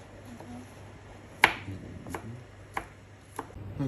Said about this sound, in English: Aki is chopping up some garlic real nice and fine.